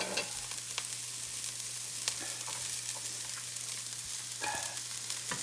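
An onion fries in a pan with a low, steady sizzle, joined by a few faint clicks and scrapes and a constant background hum, with no voices.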